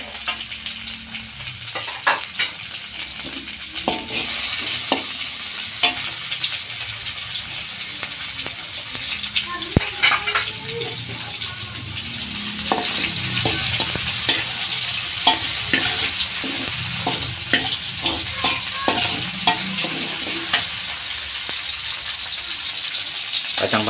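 Red chili, bird's eye chili and tomato sizzle and crackle as they are stir-fried, with a spatula scraping and clinking against the pan throughout, loud and close with no talk.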